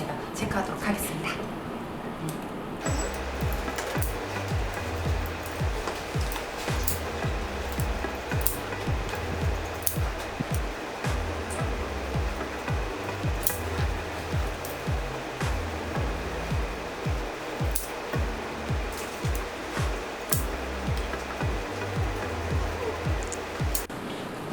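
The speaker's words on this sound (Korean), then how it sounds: "일단 머리를 샴푸를 하는 느낌으로 드라이기로 좀 많이 말려볼게요." A hair dryer drying freshly cut hair in a salon blows with a steady, continuous roar for the whole stretch while a person talks over it.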